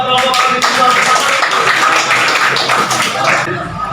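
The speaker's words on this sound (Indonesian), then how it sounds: "Beri tepuk tangan dong buat kelompok audiovisual pertama" Classroom of students applauds a student group after its audiovisual presentation, brisk continuous clapping from many hands at close range, with a few voices mixed into the crowd noise.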